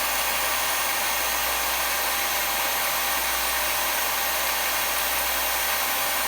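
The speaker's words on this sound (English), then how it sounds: "I'm going to slow the drill down this time just to show you. You can hear a difference in the drill." A power drill spins a brass cartridge casing at reduced speed for annealing, giving a steady, loud, unbroken whir with no pauses or voices.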